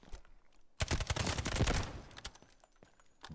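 A rifle firing 5.56 ammunition on the Delta Force firing range: a sharp rapid burst of automatic fire, close and loud, followed by scattered single shots and faint clicks.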